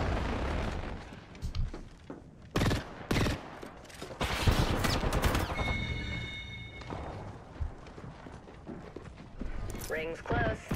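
Gunfire in the video game Apex Legends, loud bursts and volleys with repeated shots and impacts, continuing through much of the stretch among other game effects, with a voice talking over it.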